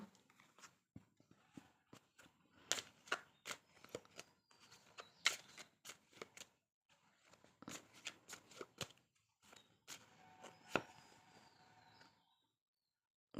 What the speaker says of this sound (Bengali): আমি এখানে আরেকটু কার্ড নেব।